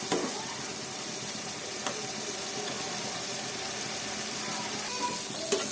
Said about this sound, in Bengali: খুব ভালো মতো কষিয়ে মশলার কাঁচা গন্ধটা যখন চলে যাবে আর তেলটা উপরে উঠে আসবে